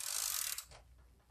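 Ratchet wrench tightening a sight pusher clamped in a vise while fitting a Dawson Precision sight to a Glock 19, a short burst of dense metallic clicking that stops after under a second, close and fairly loud, with no voices.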